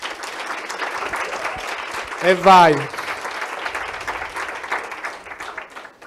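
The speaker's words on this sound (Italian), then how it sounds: "Applauso." Studio audience at an Italian comedy podcast recording bursts into steady applause, with a host's voice briefly cutting in over the clapping.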